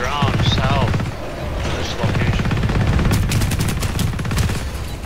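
Rapid bursts of gunfire from the video game Planetside 2, a Terran Republic assault on a tech plant, rattle continuously over a steady low rumble of battle, with a voice talking underneath.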